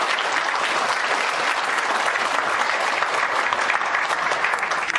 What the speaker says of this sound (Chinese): 大家用足济的掌声来请